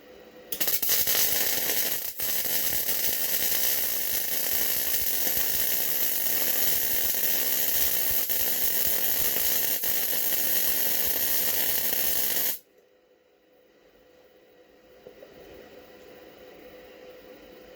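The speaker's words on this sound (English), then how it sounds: "That is just running a bead down on some scrap metal here." Arc welder running a bead down scrap metal, a steady loud crackling hiss lasting about twelve seconds before cutting off abruptly, leaving faint room noise.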